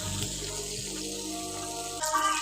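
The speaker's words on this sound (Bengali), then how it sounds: "উলট পালট করে ভালো করে ভেজে নেব।" Tangra and puti fish fry in a pan with a steady, close hiss of hot oil that holds evenly throughout and swells slightly toward the end.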